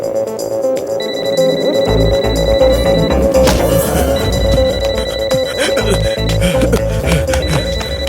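A telephone rings in a tense film scene, its repeating electronic tone running steadily throughout over a dense, loud background of music and room noise.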